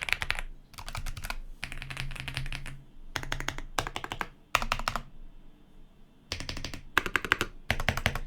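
Mechanical keyboards clacking in quick bursts of keystrokes, punctuated by heavier thocks from space bars and enter keys, several separate runs with short gaps, close-miked and without speech.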